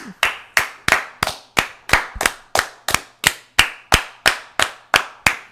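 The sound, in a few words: two people clapping hands together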